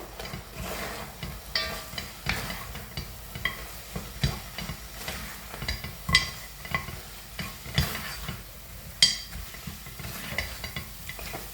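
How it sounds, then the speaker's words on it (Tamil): Spice powder being stirred into mutton frying in a pan for mutton kothu, with steady sizzling and repeated scraping strokes of a spoon against the pan, close and fairly loud, no talk. "இதை வந்து நிறையா கலந்து விடுவோம்"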